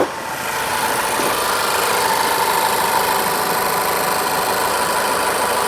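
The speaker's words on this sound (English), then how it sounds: "I'm gonna start the engine." A Ford Focus engine that had a crank-no-start fault after refueling runs with a steady, loud idle for several seconds, close up, after a brief start at the beginning, with no talking over it.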